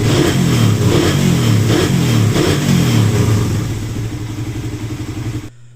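Raider 150 motorcycle engine after a tune-up, revved hard in several rising pulses up close, then settling back to a steadier idle-like drone before the sound cuts off.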